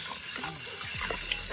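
Running water rinsing beans, a steady gushing stream from a tap, close and moderately loud, with faint knocks in the background and no talking.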